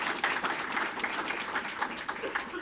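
Audience applause for the student athletes at a press conference introducing a new coach, steady scattered clapping from a room of people throughout, moderately distant.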